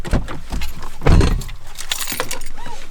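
Keys jangling and clinking near the microphone as someone fumbles with a motorcycle key that won't work, with irregular metallic rattles, a louder burst midway, and brief talk in the background.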